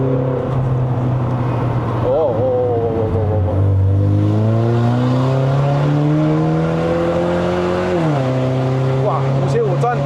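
A Mercedes-Benz W212 E250 AMG Line engine revs hard toward 5500 rpm on a mountain climb, its loud, close drone rising in pitch through several pulls with shifts in between, while a voice talks over it.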